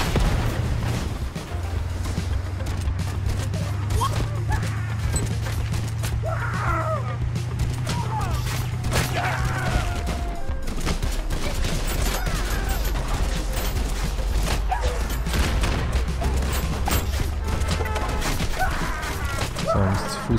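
Dense bursts of video game gunfire and impacts crackle throughout in MANIAC, mixed with car engine rumble and occasional booms, busy and continuous for the whole stretch.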